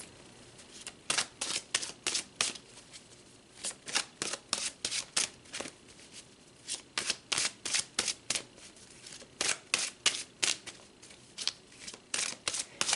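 Tarot cards are pulled and shuffled in a steady series of crisp riffling bursts, some rapid and clustered, others spaced apart, with no voices over them.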